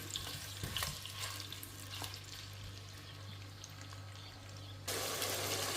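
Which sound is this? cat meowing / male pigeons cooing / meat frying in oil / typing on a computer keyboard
meat frying in oil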